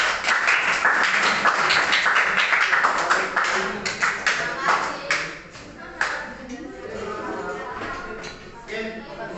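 A classroom of students applauding a presenting group, a dense burst of clapping that thins and fades toward the end, with voices chattering underneath.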